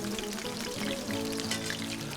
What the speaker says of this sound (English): Just going to put a tiny bit more water in the second batch.